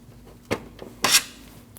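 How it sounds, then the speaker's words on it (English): A flat-blade screwdriver twists free plastic grille clips at the radiator support of a 2012-2021 Nissan NV2500 van, giving two short, close scraping clicks about half a second apart against a quiet background. "use a flat blade screwdriver, put it in the slot, and twist. Now do that for the remaining 5 clips."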